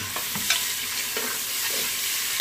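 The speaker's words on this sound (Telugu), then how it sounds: "వీటిని వేయించుకుందాము." Raw green chilies frying in a pan for vegetable biryani, a steady close sizzle with a few soft stirring scrapes and clinks, no voices.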